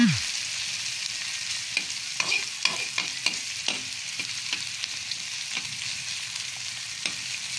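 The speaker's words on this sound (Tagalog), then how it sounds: "Magisa mo na lang yung sibuyas, kamatis, luya, bawang." Onion, tomato, ginger and garlic sauté in hot oil for adobo of chicken liver and gizzard with kangkong, a steady soft sizzle broken by close, irregular stirring clinks and scrapes, with no one talking.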